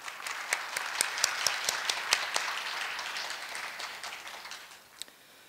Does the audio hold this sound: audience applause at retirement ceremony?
yes